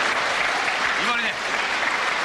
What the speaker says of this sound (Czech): Já ten potlesk uměle protahuju